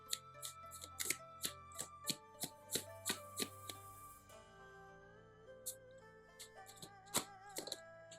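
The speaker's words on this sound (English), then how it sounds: "Let's get some angel therapy cards out." Angel therapy oracle cards being shuffled by hand, a run of crisp riffling snaps in quick succession that then thin out to a few scattered taps, close and fairly quiet, with faint music underneath.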